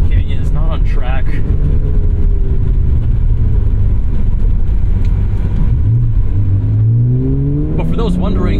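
A 1991 Acura NSX, mid-engined, drives along a canyon road, its engine droning steadily and rising in pitch as it accelerates through the gears, loud and close throughout with wind and road noise underneath.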